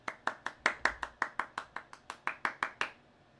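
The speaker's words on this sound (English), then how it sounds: "Give him a round of applause." About fifteen sharp, evenly spaced hand claps from a single person, each distinct and close, in a steady quick rhythm lasting about three seconds before stopping, with no voices.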